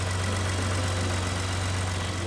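A 2017 Lincoln Navigator with a 3.5-liter EcoBoost engine and about 55,500 miles idles, a steady low hum with an even rumble that stays constant and close, with no one speaking.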